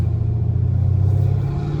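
Dodge Hellcat Redeye engine running close and loud, a deep steady rumbling drone with a sustained tone on top, no speech.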